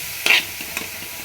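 Mustard greens fry in oil in a pan, a brief soft sizzle with a couple of light stirring scrapes, close up and without talk.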